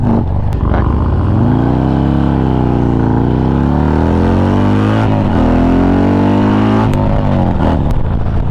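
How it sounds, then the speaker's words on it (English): A Harley-Davidson motorcycle pulls hard in fourth gear. Its loud, close engine drone climbs and dips in pitch as the bike accelerates, with a steady rumble throughout. "Fourth gear, all this torque in fourth."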